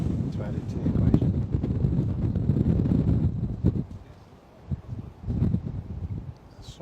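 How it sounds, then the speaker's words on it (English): Wind gusts at London City Airport buffet the microphone with a close, heavy low rumble that swells and eases, dipping briefly before returning, while a voice speaks underneath. "some complementary wind to add into the equation"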